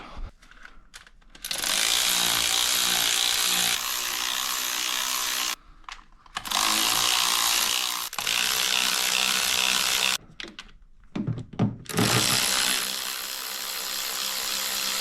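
Bolts come off the supercharger of a 2018 Chevrolet Camaro ZL1 with a hand ratchet. Loud, close, rapid clicking comes in several sustained bursts, with short pauses between them and no talking.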